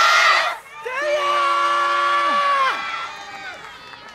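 Outdoor yosakoi dance performance crowd, with loud cheering and shouted calls rising over a sustained chanted voice that holds several long tones before fading.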